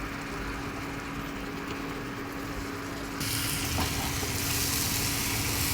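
A paste of ginger and green chili fries in a pan with a dense, steady sizzle that grows louder and harsher partway through, with no talking.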